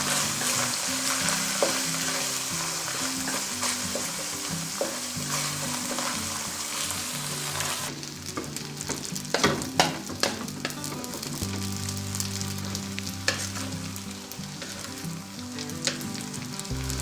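Spaghetti ingredients fry and sizzle steadily in a pan while being stirred, with scraping clicks and bursts of spatter growing busier in the second half; no voices.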